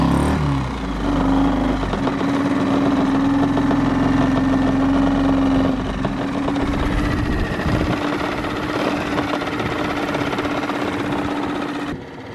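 A sailboat's engine idles after being cranked, a loud, close, steady low drone that runs almost unbroken, shifting slightly partway through before cutting off near the end.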